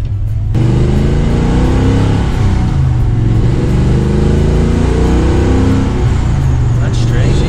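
A car engine revs hard during a throttle test drive, rising and falling loudly in sustained, dense roars. People talk over the engine noise inside the car.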